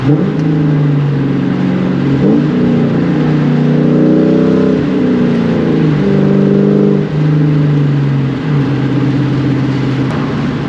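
A 1999–2004 Ford Mustang's exhaust revs loud and close, the engine rising and falling through several throttle blips and sustained revs, with no talk over it.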